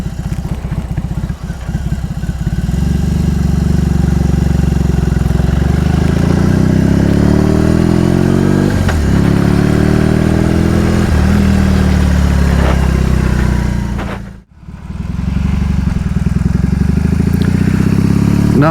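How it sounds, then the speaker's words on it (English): A BMW R18 Custom motorcycle's big boxer engine rumbles deep and loud while riding, rising steadily in pitch as the throttle rolls on, then dropping sharply for a gear change before pulling again. "what is so absolutely fantastic about this motorcycle is, first of all, the sound is brilliant as you roll it on"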